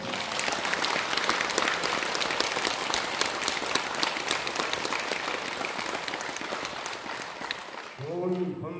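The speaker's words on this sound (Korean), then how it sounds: "좋은 법문을 전해주신 경혜스님께 다시 한번 큰 박수 부탁드립니다" A Buddhist temple audience gives a big round of applause to the monk Gyeonghye after a dharma talk; dense, sustained clapping fills most of the stretch, then fades as a voice begins speaking near the end.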